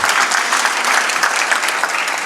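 A dense round of audience clapping fills a civic hall during the 2025 State of the City address in Bakersfield, California, loud and even throughout the short burst, with no speech over it.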